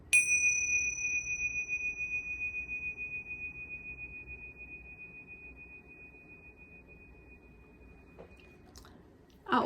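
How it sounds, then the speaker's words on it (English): A single bright chime rings out and slowly fades over several seconds, followed by a brief soft clatter at the end. "I will use chimes and sounds like this to chime around the room"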